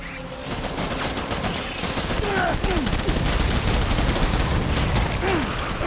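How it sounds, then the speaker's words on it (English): Gunfire in the video game Death Stranding: dense, continuous barrage of shots over a loud roaring, noisy game soundscape with some whooshing sweeps, steady throughout. "that was the 7 shots there"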